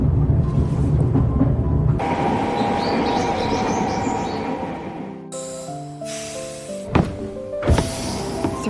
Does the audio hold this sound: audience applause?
no